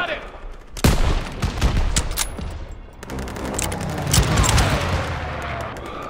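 Dense gunfire from a World War II battle in Call of Duty WW2, with rapid overlapping shots and heavy bursts. Voices call out over the steady combat din.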